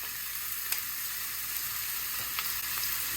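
Beef sizzles steadily in a hot pan, a bright hiss that holds throughout, with a few soft scrapes and taps as the meat is flipped.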